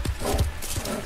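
Horses in an audio drama scene stamp and shuffle close by, a few heavy thuds and hoof knocks in quick succession over a dense, busy background.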